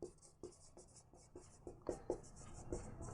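Chalk or marker strokes on a board during a class 10 polynomial math lesson, a steady series of close scratchy taps and scrapes with no talk.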